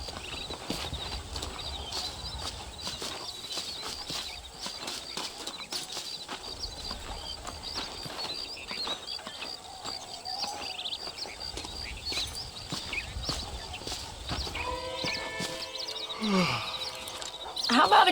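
Horse hooves clip-clop at a steady walking pace in the Western game Red Dead Redemption, moderately close and fairly soft, with faint bird chirps in the background and a brief noisy rustle near the end.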